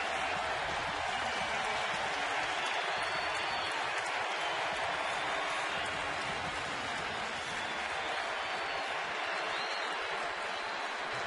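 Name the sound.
crowd applauding Brooks Robinson at Orioles home opener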